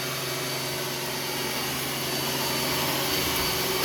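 A Roomba s9 robot vacuum runs along a floor edge and into a track, giving a steady, even motor whir and suction hum that swells slightly toward the end, close and alone.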